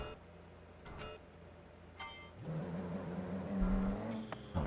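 Three-wheeled car in the BeamNG.drive racing game, engine droning steadily then rising into a louder, harsher surge as it pulls away on a high-speed four-lane section, with a few brief clicks over the top.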